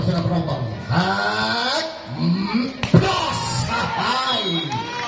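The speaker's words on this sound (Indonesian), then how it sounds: "Kita lihat kembali suasana penonton." Spectators at a semifinal football match shout and cheer in a loud, continuous crowd roar, with voices rising and falling and a sharp clap or smack near the middle.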